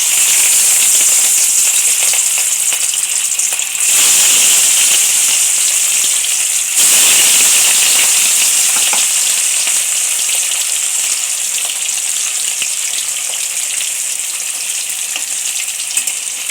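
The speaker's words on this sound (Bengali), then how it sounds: "মাছগুলো একটু হালকা করে আমি ভেজে নেব," Rohu fish pieces frying lightly in mustard oil in a kadai, a loud, steady hiss of sizzling oil that runs throughout with two brief dips, no voices.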